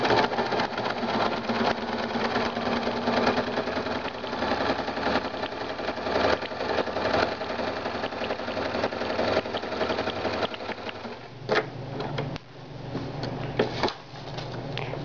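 Sewing machine stitching a straight line: a steady, close mechanical whir with rapid needle clatter running almost without pause, then a brief dip and quick restart near the end.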